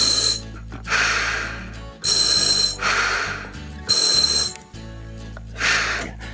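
Slow, regular breaths through a vintage double-hose scuba regulator: four loud hissing inhalations and exhalations, each a few seconds long, separated by brief pauses, close to the microphone.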